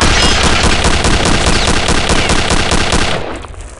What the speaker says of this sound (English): They can melt away your HP in a second, thanks to their FG-42 fully automatic rifle